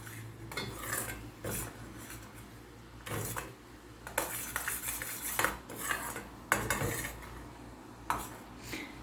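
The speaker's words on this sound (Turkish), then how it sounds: "Karıştırmak çok önemli." A spoon scrapes and clinks steadily against a pot while stirring a homemade vitamin C lozenge mixture, soft rhythmic strokes with repeated metallic taps, close and quiet with no talking.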